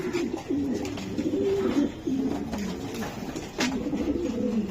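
Racing pigeons coo in a steady run of soft, low rolling calls, close and fairly loud, with short breaks between phrases and no talking.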